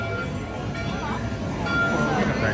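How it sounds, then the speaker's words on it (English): A train pulls into a station at Disneyland with a continuous low rumble and rattle that grows slightly louder, while people chatter nearby. "Our train's arriving at the station."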